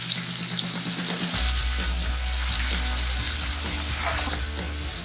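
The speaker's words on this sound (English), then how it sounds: "Stir it and roast it on a medium flame for 5 minutes." Stuffed okra with besan roasting in a pan over a medium flame, a loud steady sizzle broken by scraping stirs, with a low hum setting in after the first second.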